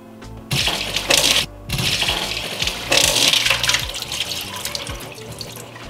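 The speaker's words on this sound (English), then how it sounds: "That was a dramatic reenactment of me spilling water everywhere." Water splashes and spills loudly from a container during a test of a houseplant watering hack, in a series of gushing, pouring bursts with brief pauses between them.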